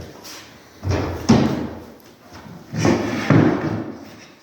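A wooden cabinet door being set down in a woodworking shop, two separate knocking thumps with a short shuffle of handling between them, close and fairly loud.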